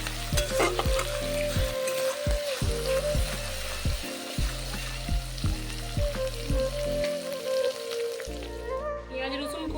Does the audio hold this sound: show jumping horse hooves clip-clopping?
no